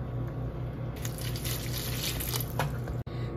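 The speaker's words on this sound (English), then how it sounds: "Make sure you wash your kale, water and vinegar." Kale is washed in a sink of water and vinegar, giving a steady close splashing and running-water rush with a few brighter swishes and sloshes, followed by a brief break and then more water.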